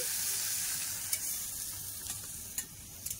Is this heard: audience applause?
no